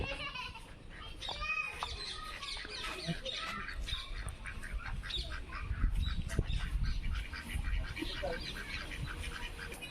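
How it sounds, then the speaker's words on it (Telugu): Several ducks quack in quick, repeated bursts at moderate distance, with a low rumbling background underneath. "ఫ్రంట్ అయితే బాతులు చూడండి"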